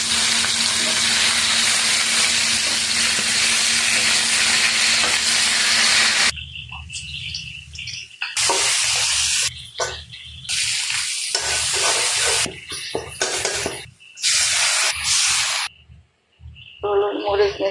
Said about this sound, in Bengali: হলুদ, মরিচ, মিক্স মশলা কষিয়ে নিলাম